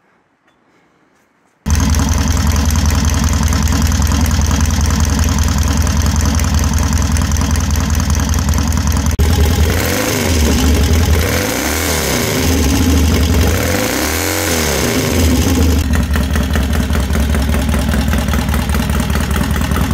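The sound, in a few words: 1967 Triumph T100C motorcycle engine running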